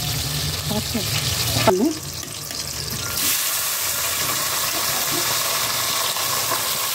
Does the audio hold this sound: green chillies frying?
yes